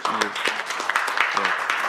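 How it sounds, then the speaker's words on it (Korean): Attendees at a political party panel discussion applaud briefly, a busy patter of clapping with a speaker's voice running over it. "김정훈 대표께서 박수 한번 쳐주시죠"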